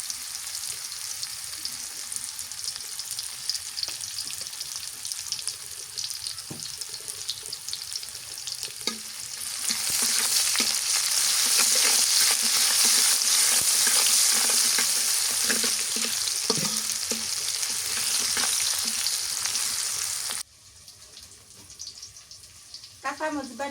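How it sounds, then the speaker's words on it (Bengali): Onion fries in hot oil while being stirred, giving a steady loud sizzle that grows more intense partway through and then cuts off, leaving quieter clattering and faint kitchen sounds. "পেঁয়াজ দিয়ে দিলাম আর একটু তেল দিলাম"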